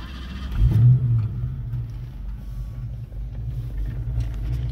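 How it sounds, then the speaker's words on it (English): A car fitted with an EFI system cranks and fires up, a loud low burst at the start that settles into a steady engine rumble running close by. "Let's start up the car."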